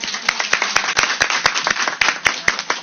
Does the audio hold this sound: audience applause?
yes